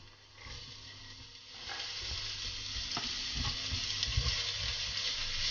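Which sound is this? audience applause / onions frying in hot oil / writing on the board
onions frying in hot oil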